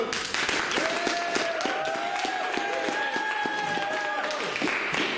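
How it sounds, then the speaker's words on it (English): Audience applause welcoming a special guest at a college event on corporate social responsibility, a dense, steady wash of clapping throughout, with some tonal voices or cheering riding over it. "Give him an applause, people."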